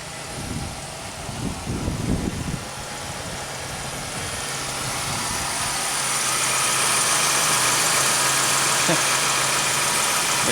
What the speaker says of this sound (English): Just heard a rattle come on from underneath the hood.